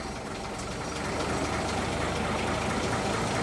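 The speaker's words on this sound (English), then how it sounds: "you can see how we'll retard the engine and you'll hear it change" The engine of a vintage Rolls-Royce 20/25 runs steadily while its ignition is retarded, giving a close, continuous mechanical drone with a faint rhythmic ticking and no talk.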